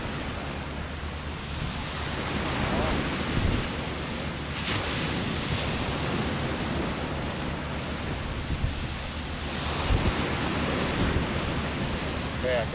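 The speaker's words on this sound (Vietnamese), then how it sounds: "Sóng đánh bên hông chiếc tàu bây giờ nghiêng các bạn." Large waves slam against the side of an iron boat at sea in rough weather, a continuous loud roaring wash with heavier surges, no speech.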